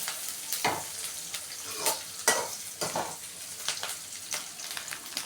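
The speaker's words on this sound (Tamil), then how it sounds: "இப்போ நம்ம வந்து இந்த ஆனியன் கொஞ்சம் வதங்கிறதுக்காக வெயிட் பண்ணலாம் ஒரு 2 மினிட்ஸு." Chopped onions sauté in a pan for vegetable Maggi noodles, a steady close sizzle broken by repeated scraping stirs of a spatula every second or so, with no voices.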